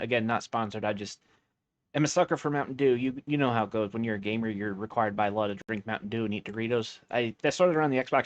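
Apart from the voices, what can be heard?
None of the usual background noises is heard.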